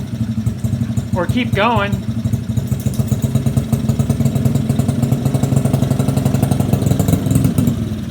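A Honda CRF50 dirt bike engine runs at a steady, loud putter close by, a rapid pulsing idle throughout, while someone speaks briefly over it.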